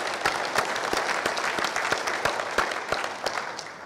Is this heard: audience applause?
yes